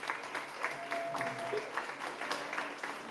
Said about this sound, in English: And I'd like to give a round of applause.